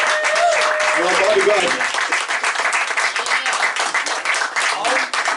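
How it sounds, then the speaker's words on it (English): Audience applause and clapping at a comedy roast of Harvey Estrada, a dense steady wash of claps filling the room and tapering slightly, with someone talking over it near the start. "Keep that applause going, man."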